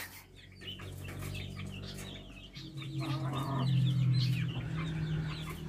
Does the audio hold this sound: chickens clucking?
yes